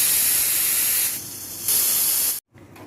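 A pressure cooker cooking dal whistles with a loud, forceful hiss of escaping steam. The hiss briefly eases, surges again, and then stops abruptly, leaving quieter kitchen noise.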